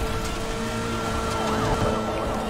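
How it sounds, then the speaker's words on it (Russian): Police siren in the racing video game Need For Speed: The Run, wailing steadily over a constant engine and game-sound bed, loud and continuous throughout. "Вот он, врубаю сирену."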